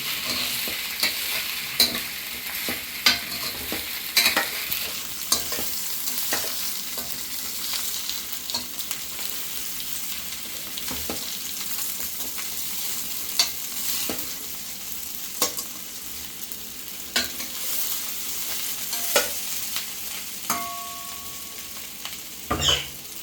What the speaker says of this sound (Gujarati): હવે આને આપણે હલાવી લઈએ.